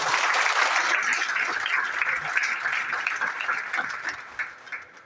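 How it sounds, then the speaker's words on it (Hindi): A crowd at a network marketing gathering gives the organizer, Digvijay Pathak, loud sustained applause, a dense wash of many hands clapping that gradually thins and tapers off over several seconds. "ऐसे हमारे ग्रेट यहाँ के ऑर्गेनाइजर दिग्विजय पाठक सर के लिए एक बार जोरदार तालियां"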